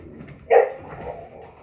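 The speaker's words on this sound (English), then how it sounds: "Sorry, that's my dog." A dog gives a single short bark in the background, slightly distant, under a quiet room tone with no talk over it.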